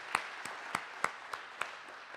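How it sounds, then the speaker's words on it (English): At a community lender's annual meeting, a handful of sparse, evenly spaced claps ring out, about seven sharp slaps in slow rhythm, faint and distant over quiet room tone. "you deserve a great applause"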